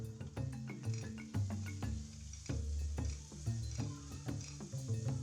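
A spoon stirs beef biryani masala in a pan for Thalassery-style dum biryani, with soft scraping and a light sizzle in repeated strokes beneath louder background music.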